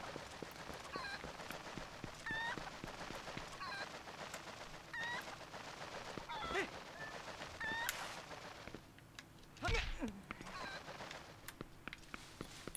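Chicken clucking and squawking in the video game Zelda Twilight Princess HD, a run of short, repeated calls over steady game background sound, with a louder burst near the end.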